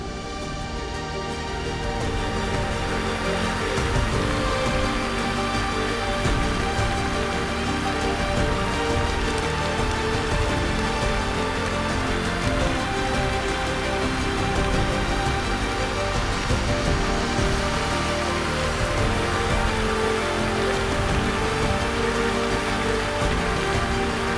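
Rain falls steadily on a lake in windy, low-pressure weather, a dense, even hiss of countless drops that swells in over the first few seconds and then holds loud and close, with no voices.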